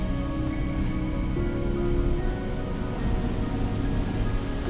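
Steady rain pours down in the video game Xing: The Land Beyond at Hyaku Lake, a dense even patter with soft musical tones humming beneath it.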